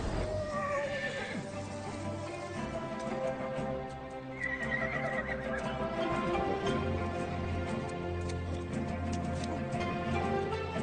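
A horse neighs and its hooves clip-clop in a Hindi-dubbed Chinese fantasy film, Monkey King 2, with a shrill whinny near the start and a second one midway over steady hoofbeats and a dense score.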